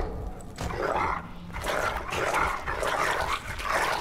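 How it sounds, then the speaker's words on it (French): Small dog barking in a Game of Thrones role-playing video game, a run of yips and barks in several bursts over a steady background. "Petit chien."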